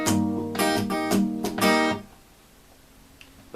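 Acoustic guitar strumming, with palm-muted downstrokes and flicked upstrokes on the higher strings. A short burst of rhythmic strokes lasts about two seconds, then rings out into quiet.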